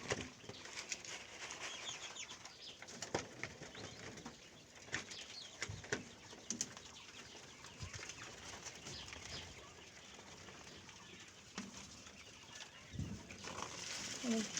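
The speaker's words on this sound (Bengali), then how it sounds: "এই পাখিগুলো ডিম দেয়, দৈনিক 5টা করে ডিম দেয়।" Seven large egg-laying farm birds in their enclosure give faint, scattered calls over rustling and occasional wing flaps, a steady low bustle with no voices.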